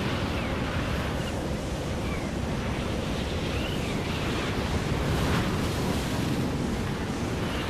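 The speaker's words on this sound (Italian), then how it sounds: "Qua il vento tira" Strong wind roars steadily in the Fortnite video game, a loud, constant gusting rush that fills the whole stretch with no talk.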